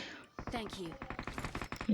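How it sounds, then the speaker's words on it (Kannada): Rapid gunfire from the mobile battle royale game BGMI comes in tight repeated bursts with a steady rattling rhythm. It plays faint and low in the mix, with some talk over it. "ಜಗ್ಗಿ ಹೆಟ್ಟಾಕತ್ರು ಅಯ್ಯೋ ನನ್ನ ಹೆಲ್ಮೆಟ್ ಹೋತು"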